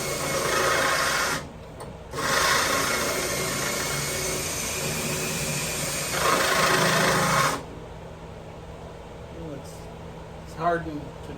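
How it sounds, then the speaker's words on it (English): A loud, whining power drill with Harbor Freight bits drills into a 1956 Chevrolet 210 quarter panel in bursts with a short pause, grinding steadily, then stops, leaving quiet room tone and a brief voice. "now we can use a drill"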